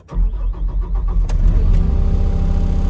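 A Case B-Series skid steer engine cranks with a rapid rhythmic chugging for over a second, then catches and settles into a loud, steady diesel idle, close up with no talking.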